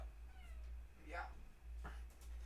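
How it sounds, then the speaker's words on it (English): A cat meows softly a couple of times over a low electrical hum, and a person talks nearby. "This is my cat."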